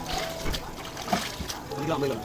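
Running water splashing and trickling over raw chicken as it is washed for a large chicken biryani, with uneven sloshes under nearby talk.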